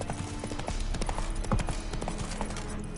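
Roach the horse galloping in The Witcher 3, rapid rhythmic hoofbeats clip-clopping close and steady over a few seconds, with brief scattered game sounds.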